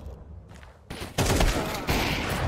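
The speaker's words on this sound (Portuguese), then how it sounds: "Troca tiro." Gunfire in a professional Counter-Strike match at an ESL Challenger League final: a quiet lull breaks into loud, dense bursts of rapid shots that continue in heavy volleys to the end.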